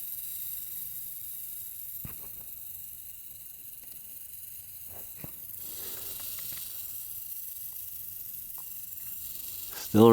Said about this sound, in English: Yeah, this guy is rattling long and hard.